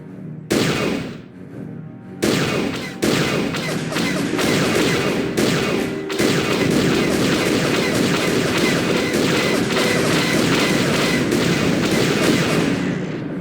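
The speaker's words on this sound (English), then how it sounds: "Incoming fire!" Sustained blaster and gunfire from a Sith Empire attack in the Knights of the Old Republic video game, a dense, loud, continuous barrage of rapid shots and bursts after a few opening volleys.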